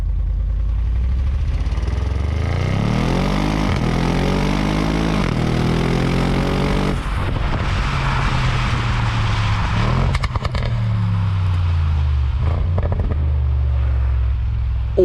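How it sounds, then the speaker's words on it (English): An Audi C7 RS6 engine with the factory-fitted sport exhaust revs up in several rising pulls, then settles into a deep, steady idle rumble, close and loud with no talking. "It's a beautiful sounding engine, even better still with the factory fitted sport exhaust"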